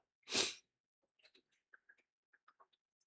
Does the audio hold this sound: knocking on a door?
no